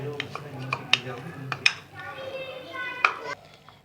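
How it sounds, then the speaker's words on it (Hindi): Two boiled potatoes are mashed in a kitchen bowl with a metal spoon, giving scattered sharp clinks and soft scraping taps at close range, with faint voices and children in the background. "अब मैंने ले लिए हैं 2 आलू उबले हुए और इसको थोड़ा सा मैश कर लेना है।"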